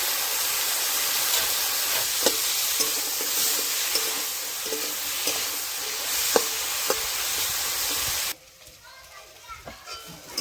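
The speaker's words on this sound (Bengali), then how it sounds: "মাছের তেল ভাজা হয়ে গেল" Fish fat with salt and turmeric sizzling and spattering steadily in a pan with occasional sharp pops, then the frying noise cuts off abruptly near the end.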